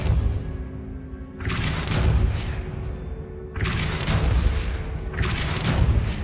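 Depulso spell effects from Hogwarts Legacy: three loud bursts of booming force, each swelling into a broad rushing blast that lingers, separated by brief lulls of low rumble.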